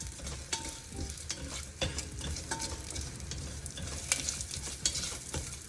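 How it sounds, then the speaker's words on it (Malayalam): Cumin seeds crackle and pop in hot oil for khichdi, making a close, continuous sizzle dotted with sharp little snaps and occasional stirring scrapes. "ജീരകം ചെറുതായിട്ട് പൊട്ടുണ്ട്, അപ്പോൾ ജസ്റ്റ് മാറിയിട്ടാം"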